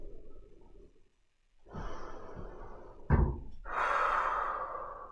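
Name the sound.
exhaling breath during an exercise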